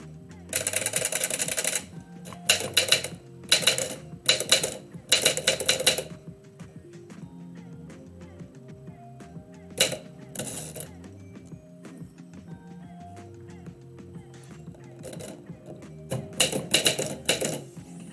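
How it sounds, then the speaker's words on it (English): A manual typewriter used for typing center-justified poems, with bursts of rapid key strikes separated by pauses and the softer mechanical sounds of carriage and spacing, heard close and alone. "It's funny writing center justified poems on a typewriter."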